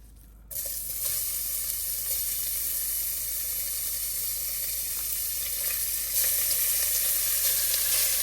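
Lean minced meat sizzles in a pan with a little olive oil, a sudden hiss starting after a brief quiet moment and continuing as a steady, close frying sound without speech.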